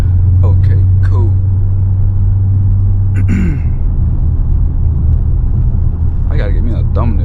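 Steady low engine rumble from a Dodge Scat Pack being driven in the morning, continuous and close throughout, with someone talking over it at the start and end.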